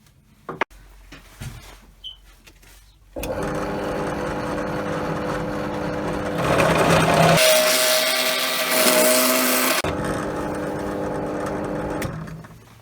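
A loud power drill with a 10.8 mm bit whirs steadily for several seconds, rising in pitch as it bites, after a few quiet clicks and taps at the start.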